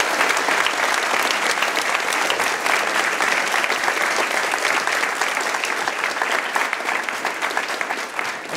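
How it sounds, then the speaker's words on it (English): A school audience at Ashfield Boys' High School applauds a guest during an assembly, giving loud, dense, sustained clapping that fills the room steadily for several seconds without letup. "Give him a round of applause."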